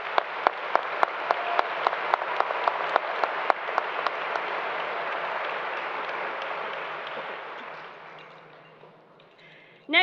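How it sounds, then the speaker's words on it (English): Sustained crowd applause at a 2025 high school graduation ceremony for Ross High School, dense clapping with a few sharp claps standing out early, steady for about eight seconds before fading out. "Let's give them a round of applause."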